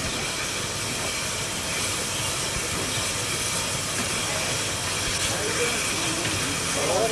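Steam engines run at an antique engine show with a continuous, fairly quiet hiss and mechanical rumble, steady throughout with no distinct beats.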